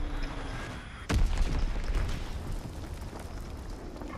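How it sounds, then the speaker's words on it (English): A Fritz X guided bomb from Call of Duty: WWII strikes with one sudden heavy blast, then a long rumbling roar over steady battlefield noise. "Fritz X bomb mission on the way."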